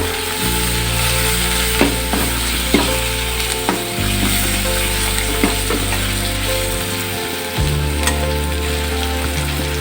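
Ginger paste, cumin, turmeric and chili powder frying in a pan, a loud continuous sizzle with occasional scraping stirs, over a steady low mechanical hum that shifts pitch a few times.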